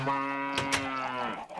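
Cows low in a video game, a drawn-out bleating moo close and fairly loud, with a brief click or two partway through.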